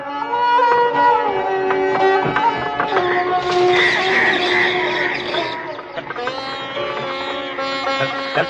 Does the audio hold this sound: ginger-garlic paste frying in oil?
no